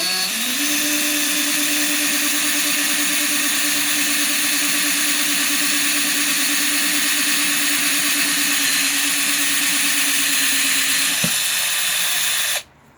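A power drill whines at a steady high pitch for a long continuous run while boring a drainage hole in a concrete plant pot, then cuts out abruptly at the end.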